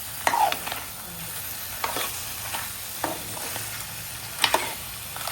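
Crab curry being stirred in a pan: a soft sizzle sits under repeated scraping strokes of a spoon, with a few brighter metallic clinks against the pan.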